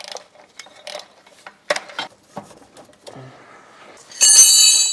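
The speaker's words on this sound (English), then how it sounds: "So now I'm gonna bolt it back up." Wrenches and bolts clink and ratchet in short metallic bursts while a gearbox mount is bolted back onto a BMW 335i, ending in a louder sustained metallic whir.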